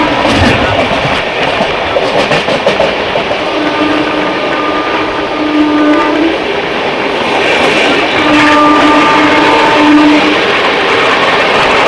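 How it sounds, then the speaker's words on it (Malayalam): Duronto Express rumbles steadily on the rails while overtaking a goods train on a parallel track, with loud continuous clatter and faint whining tones heard from inside the carriage. "നമ്മൾ പാരലലി ആയിട്ട് ഒരു ഗുഡ്സിനെ ഓവർടേക്ക് ചെയ്യാണ്."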